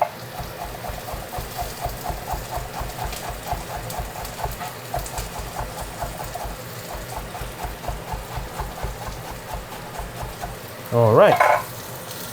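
Shallots and onions frying in a pan, a continuous sizzle under rhythmic, steady stirring strokes, with a short voice and a brief clatter near the end.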